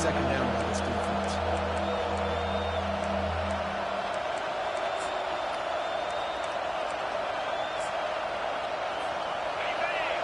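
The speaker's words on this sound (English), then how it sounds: "Third down, and this crowd is tearing the lid off this place." Broad roaring crowd noise from a college football video game stadium, Georgia against Alabama, a steady loud wash of cheering that holds throughout, with a low rumbling tone fading out in the first few seconds.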